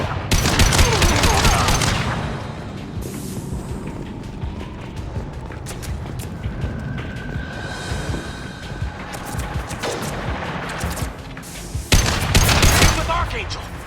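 Heavy gunfire in the video game Mass Effect rattles out in a loud, sustained fusillade of overlapping shots, easing into a steadier battle din before swelling into another intense burst near the end.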